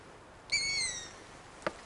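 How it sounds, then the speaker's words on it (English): Barn owl nesting on a pub roof gives a single harsh, drawn-out screeching call, close and fairly loud, followed by a brief sharp knock. "Ah, that's the barn owl. Nests on the pub roof."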